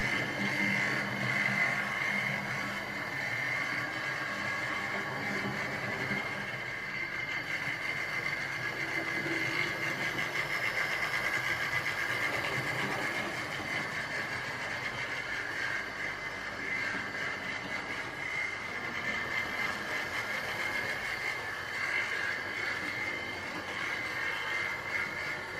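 A Tri-ang R350 L1 model locomotive in SR green, number 1757, hauling coaches with a steady, unbroken mechanical whirr and rumble. It stays at an even level throughout, with no talking.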